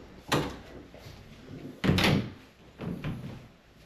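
Standard double closet doors in a four-bedroom house swing and shut, three distinct knocks and thuds spaced about a second apart, close and fairly loud in a quiet room.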